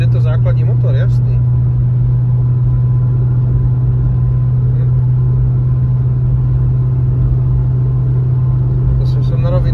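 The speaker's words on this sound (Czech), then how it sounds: "Je to základní motor, jasný." A car with a basic engine running at full throttle on a straight stretch of German autobahn, a loud, steady engine drone and road rumble heard from inside, with a person talking over it.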